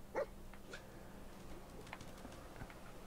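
A dog in a video game gives a short yelp near the start, followed by faint whimpers and soft sounds over a quiet background, with no talk.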